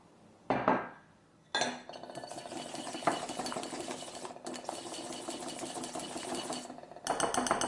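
Egg yolk and olive oil whisked in a bowl, giving a steady scraping, clinking rhythm of utensil on bowl that runs for several seconds after a brief start.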